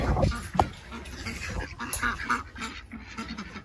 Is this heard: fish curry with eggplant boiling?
no